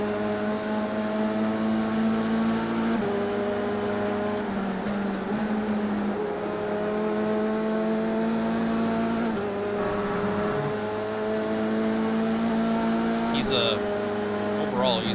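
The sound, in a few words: Formula 3 race car engine in iRacing video game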